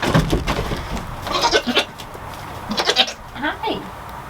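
Baby goats bleat in several short, high, wavering cries at close range, with a person talking softly between and around the calls.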